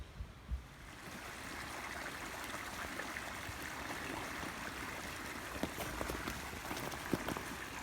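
A river rushes steadily through a foggy forest, a dense, even wash of flowing water that fills the scene from start to finish, with a few small splashes and knocks near the microphone.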